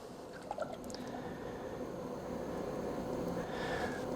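Sika Pro-Tecta two-part metal roof coating, with part B poured into the part A container: a faint, steady liquid pour with soft squishing and dripping, alone and without voices.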